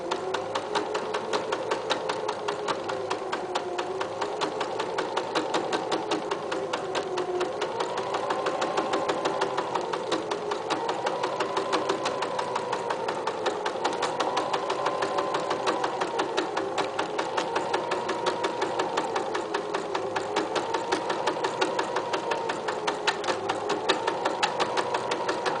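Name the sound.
sewing machine stitching fabric pieces together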